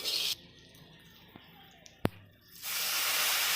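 Water poured into a hot pan of frying vegetables, a loud hissing spray at the start, a quieter stretch with a sharp clink, then a strong rising hiss of steam.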